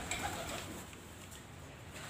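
Pigeons kept in a wire-meshed loft coo softly in the background, faint and low, with a steady hum of room noise.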